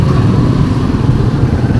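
Steady low engine drone of a Grab ride motorcycle, close and continuous with a constant rumble throughout, no talk over it.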